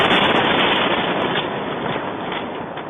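Dense, continuous rumbling roar of detonations, loud and sustained across the whole stretch without pauses or voices.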